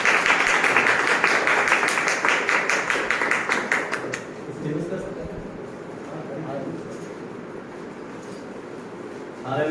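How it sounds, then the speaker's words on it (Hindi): A church congregation claps hands together in a lively, rhythmic burst at a monthly meeting, then the clapping fades into quieter room noise with a voice speaking. "ताली बजा कर"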